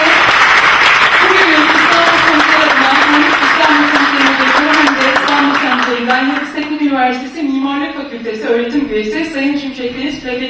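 Loud applause from a lecture audience fills the room, dense clapping at first, then thinning as a voice starts speaking over it.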